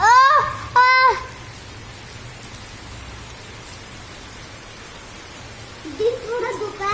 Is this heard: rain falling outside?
yes